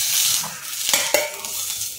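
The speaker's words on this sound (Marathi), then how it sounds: "तर त्यातच मी शेवया पण भाजून घेते" Vermicelli roasting in a little ghee left in the pan crackles softly with a few sharp spoon scrapes and clinks against the metal, close and brief, with no voices.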